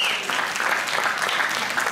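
An audience claps steadily and densely at a children's Christmas school play, the applause continuous and fairly close throughout.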